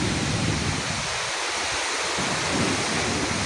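Heavy rain pours steadily over a village, a dense continuous wash of noise with wind gusting outside, even and loud throughout with no voices.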